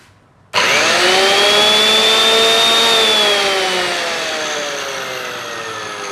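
A Makita 3501N wood grooving machine switches on with an abrupt start, then runs as a steady, loud, close motor whine with a strong tonal hum that eases slightly toward the end, with no talking over it.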